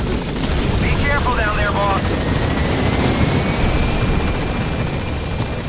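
A helicopter in Metal Gear Solid V: The Phantom Pain, a loud steady rotor and engine roar filling the scene throughout, with brief chirping electronic tones near the start.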